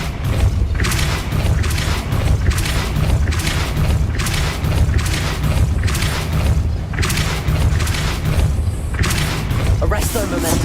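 Spell blasts in a wizarding world video game: a steady run of loud, booming thuds and whooshing bursts repeating about once a second, with heavy game effects filling the sound.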